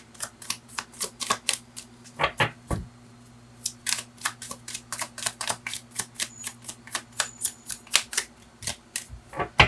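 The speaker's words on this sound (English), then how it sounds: "One more shuffle, then I'm gonna choose." Crisp, rapid snaps and riffles of tarot cards being shuffled in quick bursts, close by and alone, with a faint steady hum beneath.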